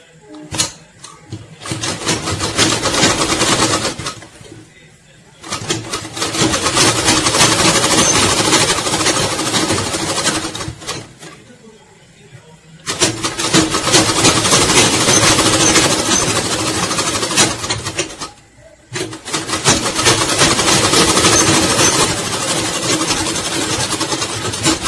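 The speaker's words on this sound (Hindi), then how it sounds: "इस तरह से आपको 1 इंच पे सिलाई लगाना है," A sewing machine stitching a pillow cover runs in long, steady bursts of loud mechanical rattle, stopping briefly between seams, close and without voices.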